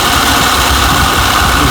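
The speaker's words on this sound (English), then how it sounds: "we got the compressor on now" A Toyota Camry 3.0L V6 idles with its A/C compressor engaged, giving a loud, steady, close mechanical drone with constant vibration and no voices.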